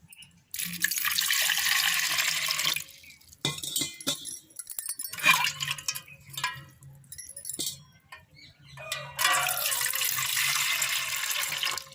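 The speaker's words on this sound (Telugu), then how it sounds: "ఒక బౌల్ తీసుకొని ఆ బౌల్లో మనం సగ్గుబియ్యం ఏ గిన్నెతో తీసుకున్నామో ఆ గిన్నెతో 4 గిన్నెలు వాటర్ పోసుకుందాం" Water from a kitchen tap is poured into a bowl to soak sago for sweet vadiyalu, coming in several hissing bursts separated by quiet gaps, with small clinks of utensils between pours.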